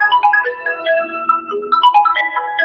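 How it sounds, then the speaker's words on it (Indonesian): A phone ringtone plays a melodic, repeating electronic tune, ringing on continuously and fairly loud with no talk over it. "ini ada telepon tapi nggak tahu cara mematikannya"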